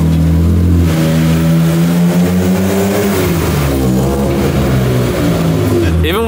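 A BMW engine fitted with an equal length mid pipe and DIY exhaust mods revs loudly and steadily, holding a deep drone that rises and falls with the throttle and ends in a sharp final blip.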